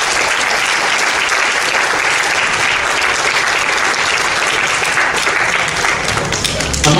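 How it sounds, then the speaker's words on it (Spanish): A church congregation breaks into loud, sustained applause, dense clapping that fills the space at a steady level from start to finish with no voices over it. "Dale un aplauso a Jesús."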